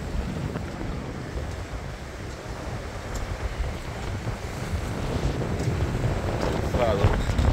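Strong gale-force wind buffets the microphone while waves crash against the shore of a Swiss lake at Brunnen, a constant loud roar of wind and surf that swells toward the end.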